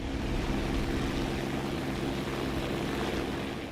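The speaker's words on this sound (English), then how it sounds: "Scharnhorst can launch shipborne reconnaissance aircraft, such as an Arado AR-196 hydroplane" Arado AR-196 reconnaissance hydroplane in War Thunder, a steady droning propeller-engine roar that holds constant and loud throughout, with no voices.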